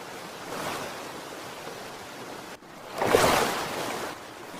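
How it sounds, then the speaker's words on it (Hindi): Cartoon ocean waves swell and crash around a boat as it founders near an unknown island, a steady moderate wash that surges louder in a big breaking roll near the end. "पानी की लहर इतना ज्यादा बढ़ने लगी कि नाव जाकर एक अनजान द्वीप के पास डूब गई"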